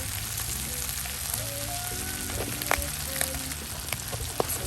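Mushrooms frying in a pot with wine for coq au vin, a constant close sizzle and bubbling under a low hum, with a few small clicks near the end.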